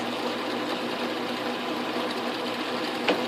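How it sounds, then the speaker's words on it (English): An Atlas/Craftsman metal lathe machines the back side of a nut, giving a steady, even mechanical whir and hum with no talk, plus one brief tick near the end. "I think this first one I'm going to try to machine the back side of the nut"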